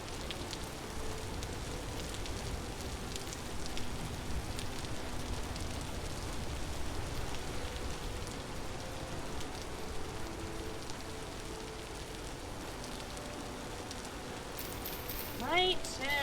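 Rain in the video game Vintage Story, a faint, steady hiss of rainfall lasting throughout with a brief louder rustle near the end.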